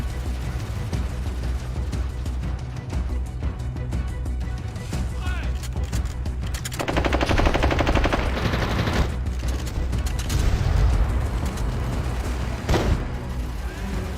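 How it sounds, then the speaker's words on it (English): Gunfire in the Total War 1942 game, a dense battlefield din of overlapping shots and rattling bursts that grows louder midway, with sharp isolated cracks standing out and a voice talking over it. "Let's snipe the enemy general."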